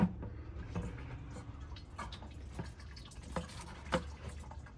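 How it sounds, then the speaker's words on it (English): Fluid drains from a Chinese mini excavator into a bucket, a quiet, steady trickle with faint drips and small ticking sounds close by, no talking. "we're gonna let that continue draining in the bucket"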